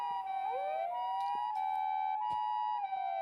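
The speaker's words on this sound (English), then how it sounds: "I could hear sirens." Police sirens wail in the Chaos;Child video game, with several overlapping tones sweeping up and down continuously at steady loudness, punctuated by a few brief sharp clicks.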